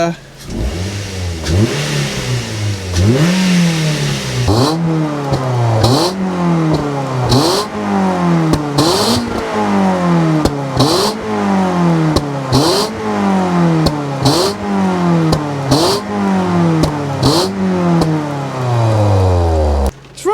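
A Ford Fiesta ST150 engine, a scrap car just brought back to life, revs hard again and again close by, each blip sweeping up and falling back in a steady rhythm over a continuous engine drone.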